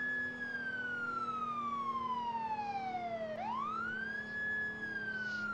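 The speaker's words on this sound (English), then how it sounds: "we're just going to siren this last little bit." A wailing police siren in a Roblox roleplay game sweeps steadily down in pitch, then swoops back up, loud and continuous with no one talking.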